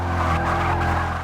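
In Forza Motorsport 6, a car brakes hard with a short, sustained tire squeal over the engine's tonal hum, a loud skid lasting about a second.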